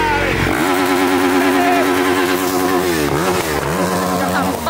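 A motocross motorcycle engine rises sharply into a loud, close rev, then holds a buzzing high pitch with quick throttle blips and wavering tone.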